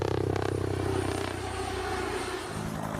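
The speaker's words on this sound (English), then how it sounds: "it cuts down the normal chop, chop, chop sound from a helicopter into a more discreet whir" Steady, discreet whir of a Comanche helicopter's five-blade rotor, a loud continuous drone with a faint rhythmic pulse early on, without the usual heavy chopping.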